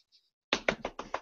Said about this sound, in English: apparently someone is banging at the door